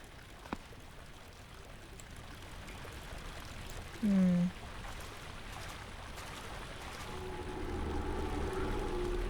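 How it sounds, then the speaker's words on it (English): A loose pipe leaks water in the horror game Amnesia, a soft steady trickle under a brief tonal sound, swelling louder toward the end. "One pipe is loose and leaking water."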